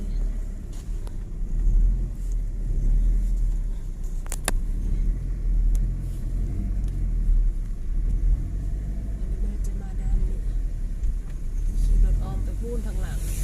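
A car driving around a field gives a steady low engine rumble close to the listener, with a few sharp knocks and a voice talking over it.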